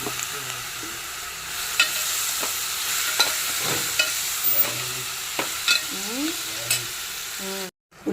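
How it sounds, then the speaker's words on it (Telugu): Onions frying in a pan as the base for an egg curry, with a steady background sizzle and occasional spoon scrapes and clinks, heard close with no voices. "ఇప్పుడు ఆనియన్స్ వేసేసుకోవాలి"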